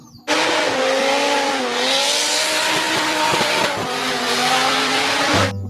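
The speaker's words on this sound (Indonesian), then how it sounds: "Widih, mobil balap." Toy race car engine whirring steadily with a rising and dipping motor pitch, close and loud for about five seconds, with no talk over it.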